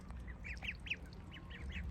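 Farm ducks quack in a quick series of nasal calls that overlap, moderately close, over a steady low background hum, with no talking.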